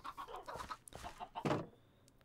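Chickens clucking in the Minecraft video game, a series of short, close clucks and squawks repeating irregularly, loudest near the middle, with no talk over them.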